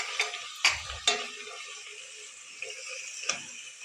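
Ginger garlic paste being stirred into browned onions in a pan: a few close scraping strokes of a spoon against the pan over a soft, steady sizzle.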